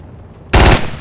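A sharp, loud burst of rapid gunfire in the Project Reality video game on the Muttrah map, erupting suddenly after a low background rumble and fading quickly.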